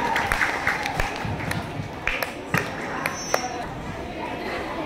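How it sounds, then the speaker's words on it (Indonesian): An audience at a school student-council candidate debate applauds candidate number 1, scattered clapping under crowd chatter and voices, with a few sharper claps standing out, moderate and somewhat distant. "Dan sudah berikan tepuk tangan yang meriah untuk kandidat calon nomor urut 1."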